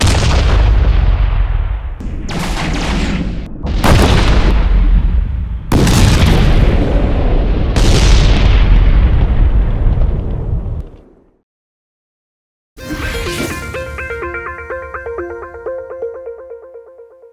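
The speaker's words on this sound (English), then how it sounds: "Here are some random explosions." A series of heavy, booming explosions from the space video game EVE Online rolls out one after another, loud and close, then a pause and a crackling, ringing blast tail, with no talking.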